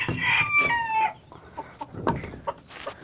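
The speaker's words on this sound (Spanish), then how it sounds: "Un gallo negro." A black rooster crows loudly up close, then a few short clucks follow against quiet background.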